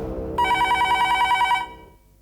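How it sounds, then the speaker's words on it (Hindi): Telephone ringing in a Hindi TV thriller drama, a single close, bright trilling ring of about a second over a low background, then fading out. "उस रात जब अलीशा का फोन आया तब"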